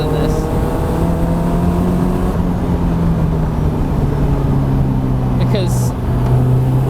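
Caterham 620S with a 2-litre supercharged engine driving along, its steady loud engine drone continuous throughout, with someone talking over it.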